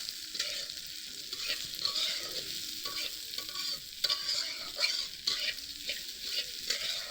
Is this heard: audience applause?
no